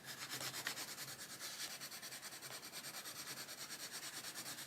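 Coloured pencil pressed hard onto paper while shading an adult colouring page, giving a steady, close, dry scratchy rubbing with quick repeated strokes and no talking.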